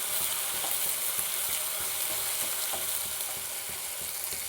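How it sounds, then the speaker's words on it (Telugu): Spice masala sizzling and frying in hot oil for a goat blood fry, a steady dense crackle with occasional stirring clicks, close and continuous throughout. "ఇప్పుడు ఈ విధంగా ఫ్రై చేసుకోవాలి. మసాలాలన్నీ బాగా ఏగి ఆయిల్ పైకి రావాలి"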